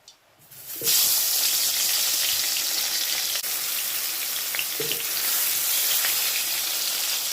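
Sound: brinjal frying in reused fish-frying oil in a wok

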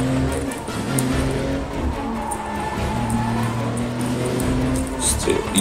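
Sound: car driving in James Bond 007 Blood Stone video game

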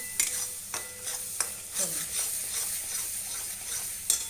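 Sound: spices frying and being stirred in oil for mutton curry

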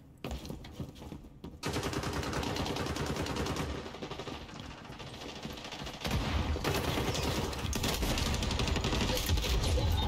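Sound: gunshots in the video game XDefiant

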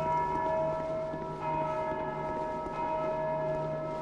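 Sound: bell ringing in video game Dark Souls II

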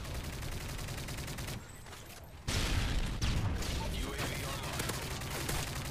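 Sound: gunfire in the video game Modern Warfare 3

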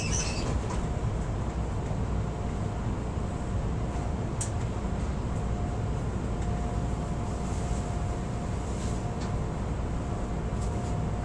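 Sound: Chicago Brown Line train running toward Kimball

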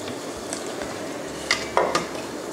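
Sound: spoon skimming foam off simmering rice porridge with millet

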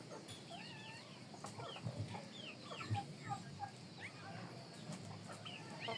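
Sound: chicks and chickens clucking

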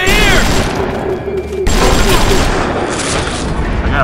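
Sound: gunshots in BioShock video game

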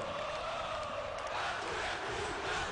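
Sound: Bahia football fans cheering in stadium

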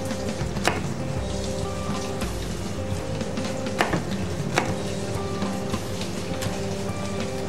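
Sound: knife cutting chili peppers in half

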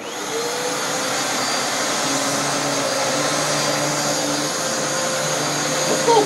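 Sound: small vacuum cleaner running

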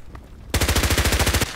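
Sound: H&K MP5k gunfire in video game Contract Wars

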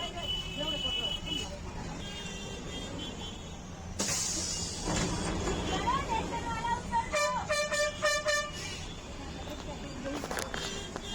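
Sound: street traffic with horns near Surat railway station

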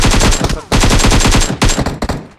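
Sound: gunfire in PUBG Mobile video game

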